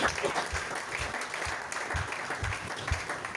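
A church congregation applauds in a sustained burst of clapping, fairly close and dense, with some clustered rhythmic claps and a faint voice or two mixed in.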